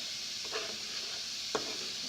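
Half a diced onion hisses quietly in a pan for a sauce, a low, even sizzle with two short stirring scrapes.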